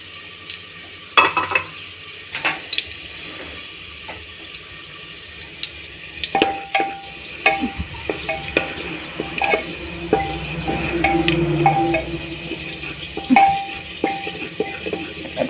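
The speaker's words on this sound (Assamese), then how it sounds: "নহৰু টুকুৰা মই ব্ৰাউন কালাৰ হোৱালৈকে ভাজি লৈছোঁ।" Garlic pieces frying in oil in a pan while being stirred, heard as a steady low sizzle broken by clattering scrapes and knocks of the spoon against the pan, close by, with no talking.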